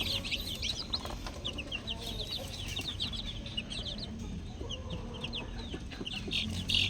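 Newly hatched chicks and nearby hens make a steady stream of high, rapid peeping and chirping over soft clucking and low background rumble, continuous throughout.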